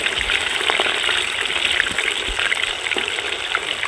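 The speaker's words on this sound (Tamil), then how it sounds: "அப்படியே எண்ணெயில் இறக்குறோமா ஆமாம் அது திருப்பி திருப்பி பறிச்சுக்கிறோமா" Steady, dense crackling sizzle of chicken pieces frying in hot oil, continuous and fairly loud with bright hissing throughout.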